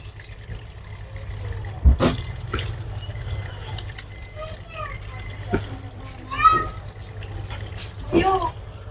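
Tap water runs steadily while hands are washed at home, with children's voices and talk over it and a few brief clattering knocks throughout.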